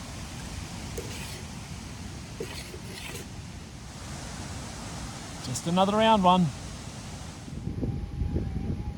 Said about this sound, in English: It's just so windy out here, there's no point having any sound.